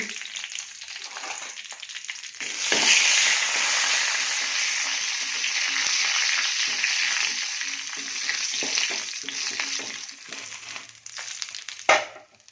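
Dried red chillies hit hot oil in a pan and crackle into a steady, close sizzle that runs for about ten seconds after a quieter start, ending with a sharp clatter.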